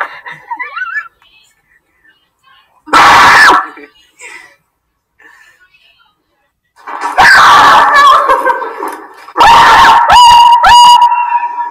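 A person screams in fright at a scare cam prank, giving a couple of loud, harsh bursts of screaming between quieter stretches, with brief vocal noises and murmurs around them.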